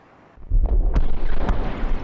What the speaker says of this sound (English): A quantum detonation has occurred